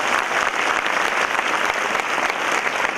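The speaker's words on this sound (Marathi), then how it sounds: "जोरदार टाळ्या व्हायला पाहिजे" An audience at an MPSC toppers' motivational event applauds loudly for Atul Kanade, with dense, steady clapping that fills the room from start to finish.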